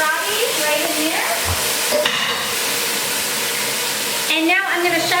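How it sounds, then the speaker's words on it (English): Broccoli rabe dropped into a hot pan of olive oil and browned garlic, sizzling and frying loudly and steadily throughout, with stirring noises and a brief low thump near the middle. "I'm gonna just dump this broccoli rabe right in there"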